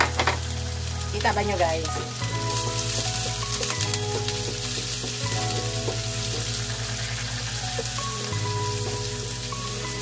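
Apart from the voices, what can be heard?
garlic and onion frying in a pan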